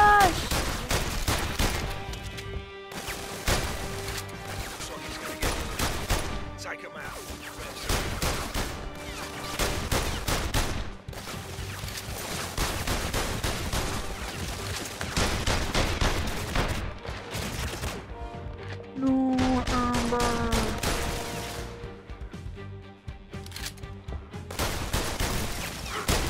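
Rapid bursts of gunfire from the PlayStation VR Worlds shooting game, with dense repeated shots and volleys sounding loud and close across the whole stretch, along with musical tones and occasional game effects.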